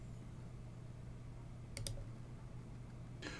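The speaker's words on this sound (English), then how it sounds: "we can proceed with the file creation by clicking on the Continue button" Mouse clicks on a software Continue button: two quick soft clicks close together, then a single faint click a moment later, over a low steady hum of room noise.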